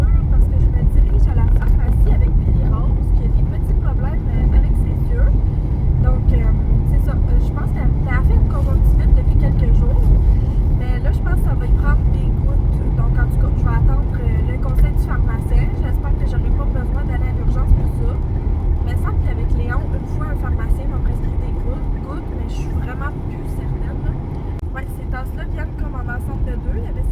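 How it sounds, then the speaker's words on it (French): Steady low rumble of road and engine noise fills the inside of a moving car on a drive to a pharmacy, constant and fairly loud throughout, with faint clicks and rattles on top. "Là, en ce moment, je suis en voiture parce que je me dirige à la pharmacie avec Billy Rose"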